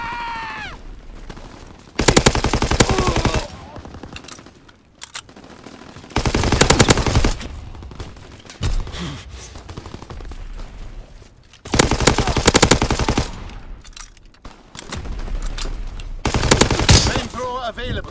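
Bursts of loud machine gun fire in Call of Duty: WWII, likely an STG-44, come in several long sustained volleys of a second or two each, separated by quieter gaps with game voices and battle noise.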